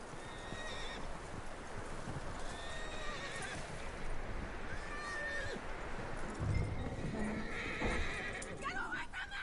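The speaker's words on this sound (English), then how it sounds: "That looks like a decent horse." A horse whinnies and clip-clops in the open-world western video game Red Dead Redemption 2, hooves plodding steadily under ambient outdoor game sound, with voices speaking faintly in the background.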